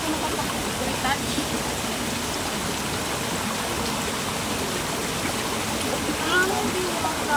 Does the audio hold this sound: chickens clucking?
no